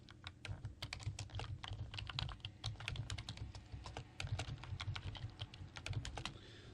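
Keys clatter in quick, uneven bursts on a computer keyboard as text is entered into a notepad, close and fairly quiet, with no talking over the clicks.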